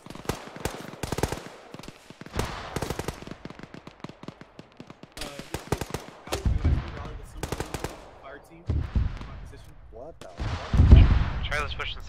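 Artillery and small-arms gunfire in the ArmA 3 military game: rapid bursts of machine-gun shots and sharp cracks, followed by heavier booming impacts, with occasional radio chatter between the firing.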